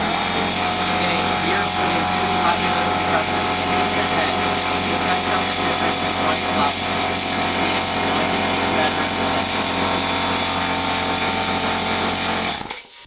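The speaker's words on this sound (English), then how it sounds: "Let's start with the Pancake compressor." A pancake air compressor runs loud and steady at close range in a workshop, a constant motor drone with a mechanical whine, holding unbroken until it cuts off abruptly at the end.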